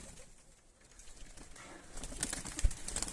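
Pigeons in a loft make soft, near sounds: low cooing and a rustle of flapping wings that grows busier toward the end, with no talk.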